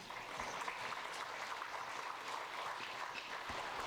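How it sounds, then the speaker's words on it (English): Applause from the crowd at a women's 50m rifle 3 positions SH1 shooting final in Cheongju, a steady, fairly faint clapping that holds evenly for the whole stretch. "there's an applause here because that was every effort from Irina Shetnik"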